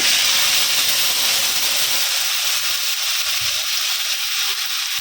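Nigella seeds and a ground paste of poppy seed, mustard, tomato and green chilli hit hot oil, giving a steady loud broadband sizzle and hiss that holds without break; the low rumble eases partway through.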